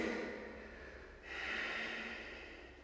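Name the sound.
breathing during yoga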